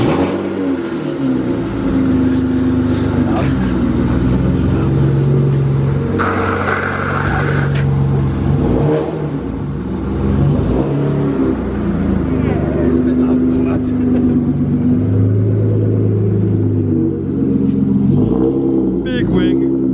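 BMW E92 engines rev loudly close by, a sustained droning roar rising and falling in pitch with several throttle blips, while people talk and shout over the noise.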